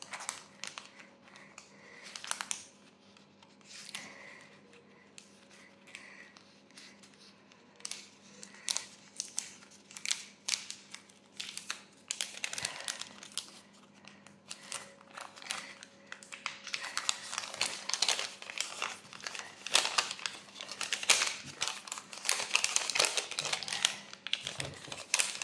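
Paper and plastic wrapping of an advent calendar packet being torn open and unwrapped, soft intermittent crinkles and rustles building to busier, louder crackling near the end.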